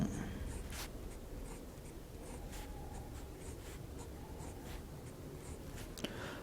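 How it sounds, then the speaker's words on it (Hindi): Chalk or marker writing out a chemical compound on a board, giving faint scratchy strokes and taps in an irregular rhythm over a quiet room hum, with no speech. "इसी कंपाउंड को मैं 2 बार लिख लेता हूं।"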